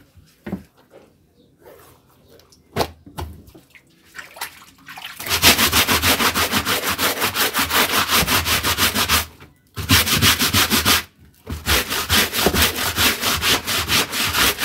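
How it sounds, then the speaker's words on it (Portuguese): Thick denim jeans are scrubbed by hand with bar soap and a stiff brush, loud rhythmic rasping strokes in long sustained bursts with short pauses, after a few scattered knocks and quieter handling. "vou precisar, ó, do sabão em barra e também da escova, né? Porque como o jeans é grosso, aí tipo não dá pra esfregar na mão"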